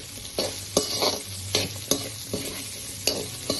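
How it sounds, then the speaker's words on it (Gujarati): Soaked sabudana stirred into cooked potatoes in a pan for a fasting dish, with a spoon scraping the pan in regular strokes over a soft sizzle. "અને આ રીતે આપણે બધું બરાબર મિક્સ કરી લઈશું."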